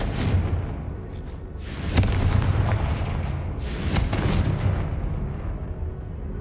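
Confringo blast spell going off in the Hogwarts Legacy video game, a series of sharp booming explosions with crackling bursts and rumbling tails, loud and dense, with no talking.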